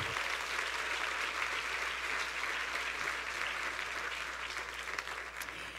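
A church congregation applauds during a sermon, a thick, sustained wash of many hands clapping that holds evenly throughout and fades only a little at the close.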